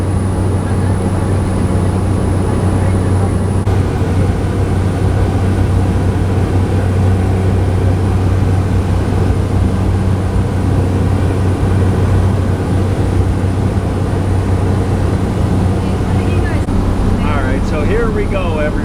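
Cessna light aircraft engine droning steadily in flight over the Whitsundays, a loud constant close roar with a low throb that runs without a break for the whole stretch.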